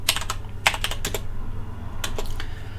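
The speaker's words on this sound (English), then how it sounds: "I'll just say what I'm typing." Fingers type on a computer keyboard in quick uneven bursts of clicking keys, close and clear over a low steady hum, with no talking.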